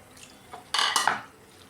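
A spoon briefly scrapes and clinks through fish peera in a pan with water, a single short burst of stirring between near-silent moments.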